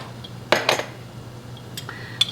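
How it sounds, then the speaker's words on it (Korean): A utensil scrapes and knocks against a bowl while leftover jujube paste is cleared out for a sticky rice dish, giving a few close, sharp clinks and a brief scrape, with quiet pauses between. "요 대추고 그냥 그릇에 살짝 남아있는 것 마저 넣어"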